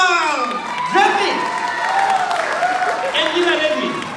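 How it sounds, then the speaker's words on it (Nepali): An audience applauds and cheers for a singer at a live song event, with a loud announcer's voice speaking over the clapping throughout. "जोरदार एकदमै ताली बजाइदिउँ"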